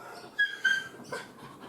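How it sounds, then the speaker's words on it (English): A dog whimpers in a few short, high whines between soft panting breaths, close by and alone. "excuse my dog in the background"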